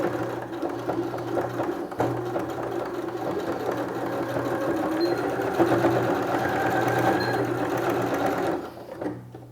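Sewing machine running a seam with backstitching at the start, a steady close mechanical whir with a brief pause and restart early on, then continuous stitching before stopping near the end.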